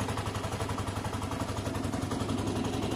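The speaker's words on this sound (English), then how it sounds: "it's a nice running engine at this stage. We'll give it a minute to warm up" A scooter or motorcycle engine idles steadily while warming up, a close, continuous low rumble with a faint mechanical clatter and no talk.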